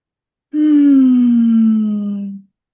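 A single long, deliberate deep breath drawn during a yoga-style demonstration, voiced and steady, lasting about two seconds, close and fairly loud, alone with no talk.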